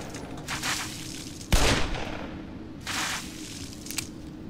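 Gunfire in the video game Black Mesa: Xen, a sharp loud shot near the middle with short bursts of shooting before and after, all loud and close.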